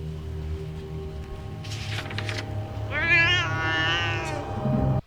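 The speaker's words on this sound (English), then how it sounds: "I love the zombie cat." A zombie cat in Buffy the Vampire Slayer gives a drawn-out, wavering meow that rises into a loud strained yowl, close and prominent over a low background hum.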